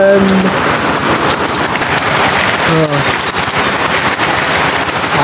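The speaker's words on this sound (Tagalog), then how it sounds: "Umuulan." Heavy rain pours down on a small farm, a dense, steady hiss of drops drumming on surfaces, loud and close, with a few faint voices briefly under it.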